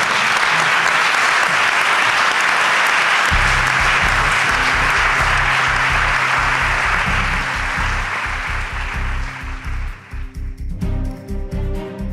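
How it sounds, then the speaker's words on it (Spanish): Loud, sustained applause from a live radio show audience in Málaga fills the whole stretch, with low thumping music entering partway through and the clapping thinning out near the end. "Por favor, un aplauso para Jesús Callejo."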